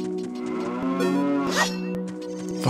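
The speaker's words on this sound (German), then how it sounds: "Warum ist eine Kuh hier?" A cow from the Zelda: Ocarina of Time video game gives a single drawn-out moo, clear and fairly close, over a faint steady game hum.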